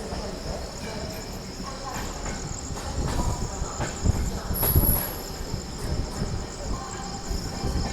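A Hubballi to Bengaluru superfast express rumbles along steadily, with a low continuous roar, faint clattering knocks and a thin high whine above it throughout.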